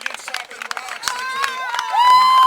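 Crowd at a high school football game between Kingston and North Mason erupting in cheers and screams over a blocked kick, a broad, building roar of many voices that swells louder toward the end, mixed with nearby talk.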